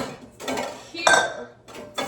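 Dishes, bowls and cutlery clink and clatter in short bursts as a dishwasher is unloaded, with quiet gaps between each handful being set down nearby.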